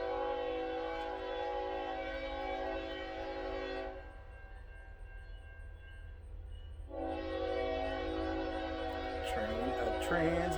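A train sounds its horn in sustained harmonic blasts, pausing for a few seconds then resuming, over a steady rumble of passing rail cars; a voice briefly speaks near the end.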